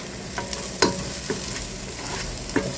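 Garlic fries in hot oil in a pan with a constant crackling sizzle, broken by sharp scraping strokes as it is stirred. The sound is close, with no voices.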